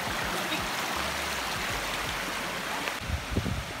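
Lion Falls waterfall and a flowing stream in Tanay, Rizal, a loud, continuous rush of water close by, with a few louder splashes and knocks near the end.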